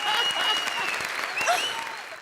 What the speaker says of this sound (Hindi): ठोकर ताली बंदी के लिए।